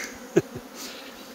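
Honeybees buzz near a swarm for sale, a short, close drone with one bee passing loudly by the microphone, then fading.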